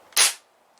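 A single sharp crack of a Crosman 1377 air pistol shot, loud and close, fading quickly into quiet room tone.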